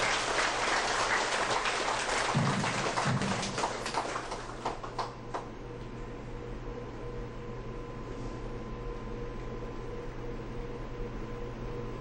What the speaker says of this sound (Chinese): 以热烈的掌声呢，咱来欢迎这个代讲师